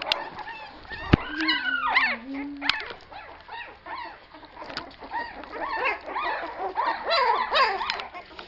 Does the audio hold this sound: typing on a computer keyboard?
no